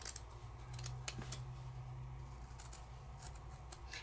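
Scissors cut alcohol ink paper into hearts, giving faint, crisp snips against a steady low background hum.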